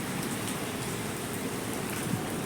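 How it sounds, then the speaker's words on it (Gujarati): Steady afternoon rain falls outdoors near shops and parked vehicles, a continuous, even hiss of drops with small patters scattered through it and no voices. "બપોર પછીનો 3 વાગ્યાનો વરસાદ ચાલુ છે, એક જ તારો ટીપા ટીપા ટીપા વરસાદ ચાલુ જ રહેશે"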